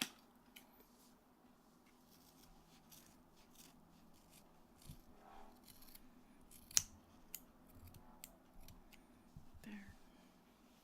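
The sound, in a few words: scissors cutting long hair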